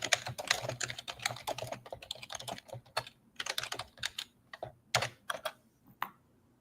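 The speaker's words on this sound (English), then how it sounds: "I'll type that in." Computer keyboard typing in bursts of quick, close keystrokes with short pauses between, fairly quiet, no talking.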